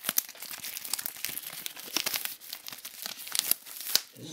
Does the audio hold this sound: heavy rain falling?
no